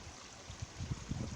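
A small brook trickles and gurgles beneath the Watling Street Roman road, its water faint and steady with soft burbling pulses, heard close by outdoors.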